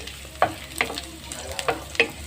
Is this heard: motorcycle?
no